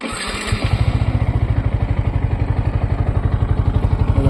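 A 2025 Yamaha MT-15 V2 motorcycle engine cranks on its self-starter and catches after a brief pause, then settles into a steady, rapid idle putter up close.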